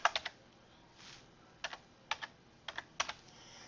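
Typing a student username on a computer keyboard: a few quiet, close key clicks in small clusters with short pauses between them.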